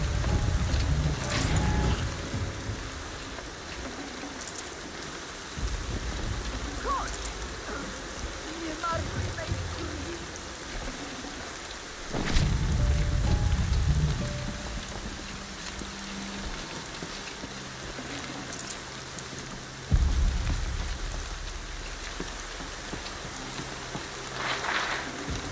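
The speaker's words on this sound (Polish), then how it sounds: "Więcej deszczu." Steady rain in the video game Horizon Zero Dawn patters in a broad wash, with low rumbling swells and occasional sharper splashes; no voices.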